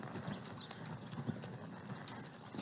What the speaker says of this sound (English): you have to understand which horse has to go a little faster, which horse has to go a little slower